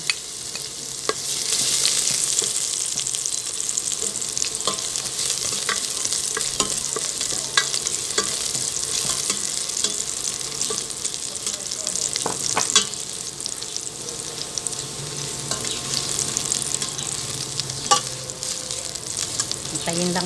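Garlic sautéing in a hot pan, a continuous bright sizzle with occasional scraping and stirring clicks, steady and close throughout.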